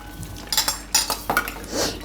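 Green peas tipped into a cooking pan with cauliflower, a few quick metallic clinks and scrapes of a spoon against the pan, close by, ending in a soft rattle.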